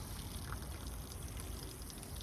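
Water running and trickling through bonsai soil in a pot, a steady, faint, continuous pouring wash with no other sounds.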